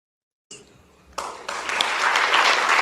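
An audience claps at a Cuban political gathering. The applause starts sparse after a brief silence, then swells into dense, sustained clapping that grows louder toward the end.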